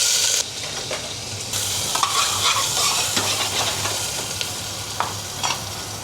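Onions and cumin seeds sauté in a heated pressure cooker, a loud continuous sizzle with occasional sharp scrapes and taps of stirring, no voices.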